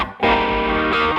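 An electric guitar played through a distortion pedal rings out as a loud, saturated sustained chord that starts abruptly after a brief quiet moment and holds with a gritty, buzzing tone.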